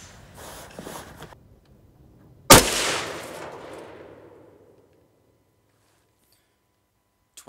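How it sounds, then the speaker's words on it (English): A single sharp rifle shot from a 350 Legend firing Sierra 125-grain JHP bullets over Winchester 296 powder, loud and close, with a long rolling echo fading out over two seconds after faint handling noise. "That was the first shot, aiming there."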